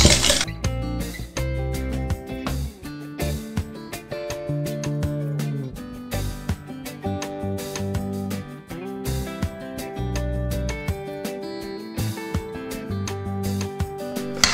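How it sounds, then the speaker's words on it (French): A whisk beating egg yolks and sugar in a bowl for a strawberry cake, giving a rapid continuous metallic clinking and tapping against the bowl, close and steady throughout. "Et on va venir les mélanger pour que le mélange blanchisse."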